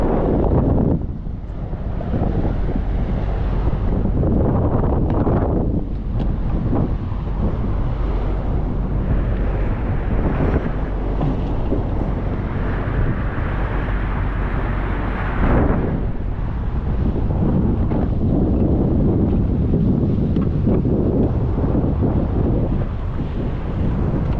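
Strong, steady wind roars and buffets across the microphone throughout on a tilting boat at sea during a sea trial, with a low rumbling undertone like a boat engine and water nearby.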